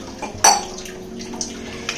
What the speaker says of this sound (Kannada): ಒಂದೂವರೆ ಗ್ಲಾಸ್ ಅಷ್ಟು ಈ ಥರ ದೊಡ್ಡ ಗ್ಲಾಸಲ್ಲಿ ನೀರು ಹಾಕ್ತಾ ಇದ್ದೀನಿ